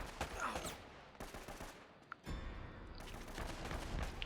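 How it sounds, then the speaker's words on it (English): Gunfire from the Uncharted: Drake's Fortune video game, a sustained fusillade of shots crackling without pause through the clip, with one sharp isolated crack standing out midway. "Somebody's shooting in the side."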